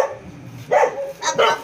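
A dog barks twice at close range, two loud sharp bow-wows about half a second apart after a brief low growl or rumble at the start.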